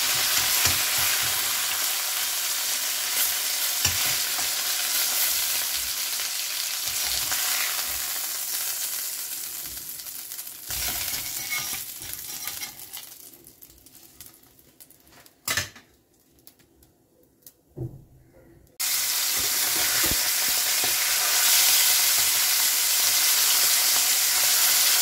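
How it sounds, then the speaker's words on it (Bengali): Pomfret fish frying in a pan gives a continuous crackling sizzle with occasional utensil clinks and stirring, then briefly drops almost silent before loud frying resumes. "মাছটা ভাজা হয়ে গেছে, এবার তুলে নেব।"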